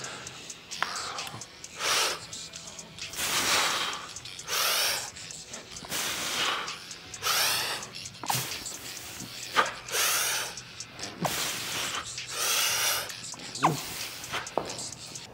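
Heavy breathing during a competition-prep workout, a run of about a dozen loud, forceful breaths in and out, close up, some sharp and snorting, others long and wheezy, with no speech.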